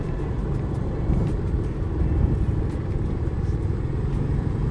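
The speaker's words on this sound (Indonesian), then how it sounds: "Ada truk-truk gede ini lagi." Big dirt-hauling trucks rumble past on a road in Karawang, a steady, loud, low engine drone with no talk.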